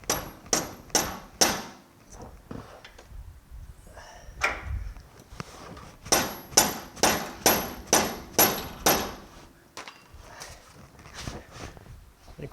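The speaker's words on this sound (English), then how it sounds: "We could just go ahead and give it a couple of good smacks." A hammer delivers a series of sharp smacks to seat a front suspension part on a 1965 Chevrolet Malibu SS, landing in two quick bursts of evenly spaced, loud metallic blows with brief pauses between.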